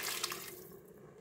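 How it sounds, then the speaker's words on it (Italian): Broth is poured into risotto in an Instant Pot, a brief soft splashing pour of liquid that fades out within a second, quiet and close with no voices. "aggiungo il brodo."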